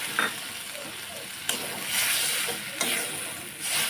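Half a bowl of water poured into a pan of cooking soybean curry, producing a hissing sizzle that swells and steams, with a couple of sharp clinks of a utensil against the pan.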